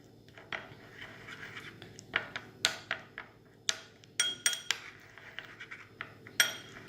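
A spoon clinks and scrapes against a bowl while mixing a masoor daal and milk face mask paste, a run of quick irregular taps growing busier, close by with no talking.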